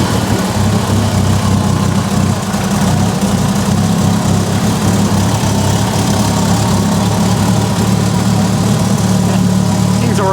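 Mitsubishi Evo 8 engine from an abandoned restoration idling steadily after its first start, a loud, close, continuous rough drone with no talk over it.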